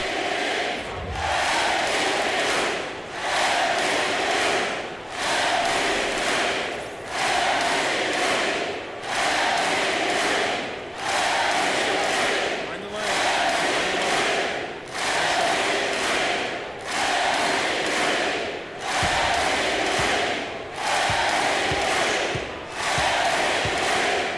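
Crowd at a Denver Nuggets versus Milwaukee Bucks NBA basketball game in an arena, roaring and chanting loudly in steady, rhythmic surges of about two seconds each, sustained throughout.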